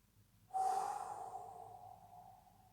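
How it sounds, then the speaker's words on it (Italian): Deep breath during a yoga exercise: a sharp inhale or exhale starts suddenly, close and fairly loud, then fades slowly with a hissy airflow over about two seconds. "Dentro il respiro, fuori il respiro."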